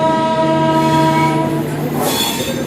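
An intercity superfast express train pulls out of Baroda station, its loud horn blowing steadily for about two seconds over the rumble of the railway cars, with faint wheel noise following.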